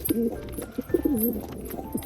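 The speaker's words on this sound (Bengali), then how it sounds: "এই মাদিটা কিন্তু আমার বাড়িরই পায়রা ছিল" Domestic pigeons cooing close by, a few soft throaty bursts spread across two seconds with short pauses between them, alone and without any talk.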